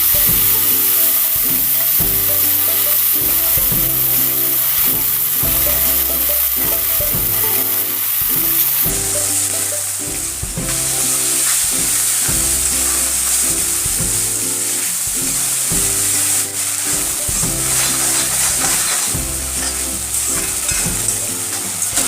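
Chopped leafy greens sizzling loudly in a hot pan, stirred in a regular rhythm of repeated scraping strokes over a constant frying hiss, close and without voices.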